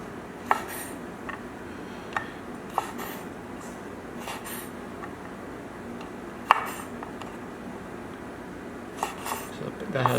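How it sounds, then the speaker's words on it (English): A knife trimming the ends off green beans on a cutting board in a home kitchen: sparse, crisp cutting taps at irregular intervals, close and moderately loud, over faint background noise. "We need to just trim the edges off of the green beans."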